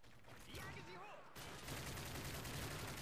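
Automatic gunfire sprays in Call of Duty: Modern Warfare 3 as dense rapid rattling bursts, quiet and continuous, with a brief spoken exclamation early on.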